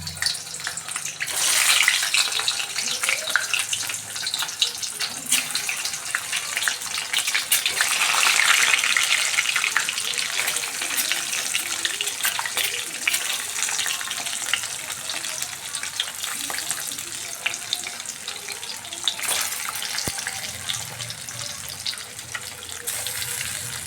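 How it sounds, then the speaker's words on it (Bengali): Eggs coated in salt and turmeric fry in hot mustard oil in a kadai, giving a loud, continuous hissing sizzle that swells and eases over a long stretch, with occasional stirring scrapes. "কড়াইতে তেল গরম হয়ে গেছে এবার আমি নুন হলুদ মাখিয়ে রাখা ডিমগুলা ভেজে নিচ্ছি"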